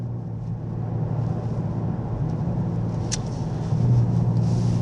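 A 2018 Kia Stinger GT Limited pulls away under light throttle, its low engine drone steady beneath road and wind noise, swelling slightly louder toward the end, heard from inside the cabin with no talking.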